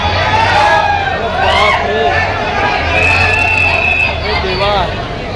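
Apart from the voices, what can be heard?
dense crowd at railway station, trains late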